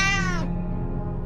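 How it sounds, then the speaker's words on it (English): A cat in the video game 60 Seconds gives one clear, drawn-out meow up close, ending abruptly into quiet room tone. "Oh, the cat's back."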